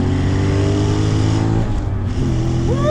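A Chevrolet Corvette C6 Z06 is run through a hard acceleration pull on a canyon road, its engine droning loud and steady as revs climb, with a brief dip partway through before the note rises again.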